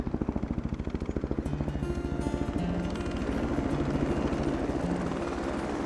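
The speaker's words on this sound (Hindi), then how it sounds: "असलान, ये हेलीकॉप्टर" A helicopter's rotor thumps in a fast, steady beat, loud and close, with the engine droning underneath throughout.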